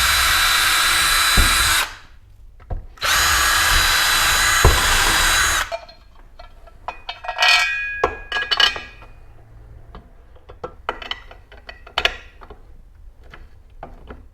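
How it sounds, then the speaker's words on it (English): A power drill boring a 1/4 inch hole for lag bolts while installing a Giraffe Tools Grandfalls pressure washer, two loud sustained whirring runs, followed by quieter clinks and handling of parts. "I'm going to go ahead and drill this out a 1/4 inch and install 2 of the lag bolts here on this side"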